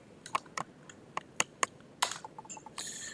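Typing on a computer keyboard while entering an Excel function, a close, quiet run of separate sharp key clicks in an uneven rhythm, with a few softer taps and a brief clattery flurry at the end, no voices.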